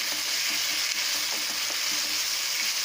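Paneer kulcha stuffing with tomato purée fries in a pan, a steady close sizzle running throughout with faint stirring scrapes and no voices.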